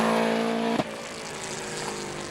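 Subaru Impreza tackling a handling course, its engine note strong and steady with harmonic tones dropping as it lifts off, a brief sharp thump partway through, then continuing to run at speed.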